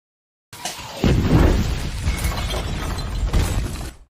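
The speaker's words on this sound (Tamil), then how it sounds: "ஒரு பயங்கரமான வெடி விபத்து நடக்குதுங்க" A microwave oven blows up inside a trailer in a movie scene: silence, then a sudden loud boom with a rumbling, crackling tail that swells again briefly before fading.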